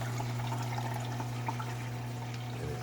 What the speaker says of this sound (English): If I just pull the power, water in the skimmer empties